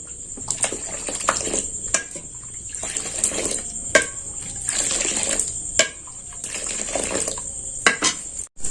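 Milk being stirred continuously in a pot for sweet red doi, with a utensil scraping and clinking against the metal in repeated strokes and sharp taps, close and fairly loud over a steady liquid swishing.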